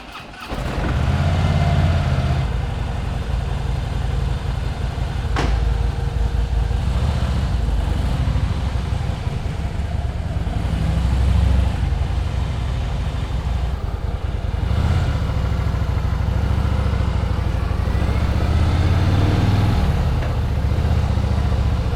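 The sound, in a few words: vehicle engine warming up while riding through alleys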